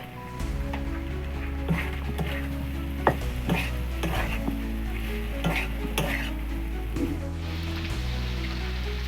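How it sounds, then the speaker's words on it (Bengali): Fish being stirred and fried in spice paste in a pan gives a steady sizzle, with repeated scraping stirs and soft clinks close by. No one talks. "মশলাটার মধ্যে দিয়ে একটু কষিয়ে নেব।"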